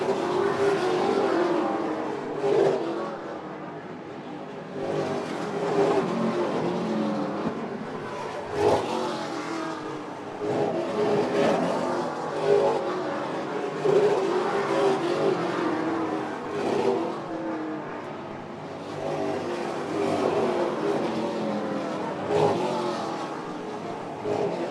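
Super late model race cars roar continuously around the Oyster Bed Speedway oval, engines droning and surging at full throttle as they pass, a dense steady wall of racing noise with occasional louder swells.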